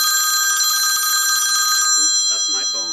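A phone rings with a bright electronic ringtone, steady and fairly loud in the foreground, during an airsoft competition briefing; the ringing stops partway and a voice begins talking.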